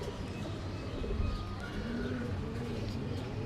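Soft, low cooing of a Teddy pigeon murmurs steadily beneath a constant background hiss, with no voices present.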